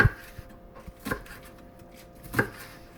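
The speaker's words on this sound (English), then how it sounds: "We're trying to get everything chopped really fine" Vegetables for salsa cruda are chopped finely with a not very sharp chef's knife on a board, a few sparse, separate knife strikes in a quiet room.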